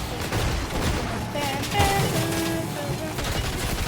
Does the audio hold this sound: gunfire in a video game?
yes